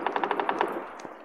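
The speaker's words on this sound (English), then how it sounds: "I can hear him shooting too." Automatic gunfire in the battle royale video game PUBG, a rapid burst of about seven evenly spaced shots followed by a couple of scattered single reports, moderately loud with a slight echo and no talking.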